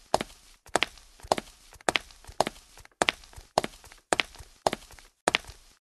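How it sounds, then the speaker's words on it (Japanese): Footsteps of a bald doll following from behind in a Japanese horror video game: a series of sharp, regular steps, in paired clusters about every half second, close and distinct with brief silences between. "後ろからハゲ人形の足音が聞こえる。"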